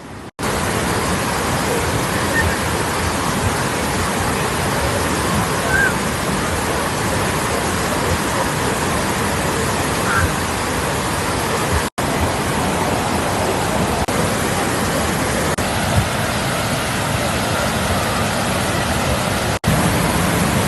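Rushing water at Khlong Nam Lai waterfall in Kamphaeng Phet, Thailand, heard up close as a loud, steady broadband roar that fills the whole stretch without letup.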